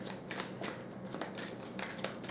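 Oracle cards being shuffled by hand make a soft, papery riffling patter in quick repeated bursts, close and fairly quiet, with no talking.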